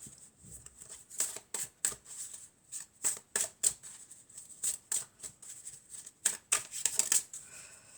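Venice oracle cards being shuffled by hand, a rapid series of crisp riffling flicks and slaps in short irregular bursts, close and fairly quiet, with no talking.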